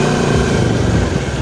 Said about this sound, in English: So the bike has a check engine light and is misfiring a little bit